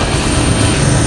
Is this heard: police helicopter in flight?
yes